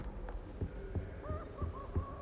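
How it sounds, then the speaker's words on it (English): A faint owl hoots softly a couple of times at an owl post in Hogwarts Legacy, under a steady run of muffled low thumps and quiet ambient hum. "It's always so exciting to see the owls."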